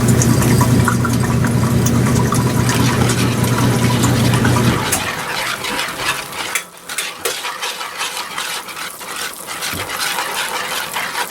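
A home grain grinder milling flour for bread runs loud and steady, with a low droning hum that cuts off about halfway through, followed by quieter clattering and scraping.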